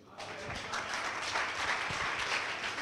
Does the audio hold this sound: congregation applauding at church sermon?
yes